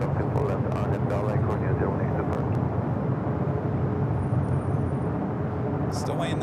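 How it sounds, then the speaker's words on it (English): A Korean Air Airbus A380 takes off from runway 24 left at LAX, heard as a steady, loud, broadband jet roar that fills the whole stretch without fading, heard from a distance with no speech. "exciting to see one of these A380 Supers with Korean in their new livery."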